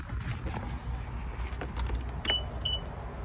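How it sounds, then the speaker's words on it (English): Vehicle engine started with a lithium jump starter kit, a steady, dense motor rumble running throughout at close range with no clear pauses and no speech. "Let's see if we can get it to crank a third time."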